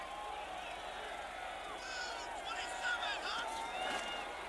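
Steady roar of a football stadium crowd during a 1989 Raiders–Cardinals game in Phoenix, a broad continuous wash of voices that swells slightly in the second half, with no clear speech on top.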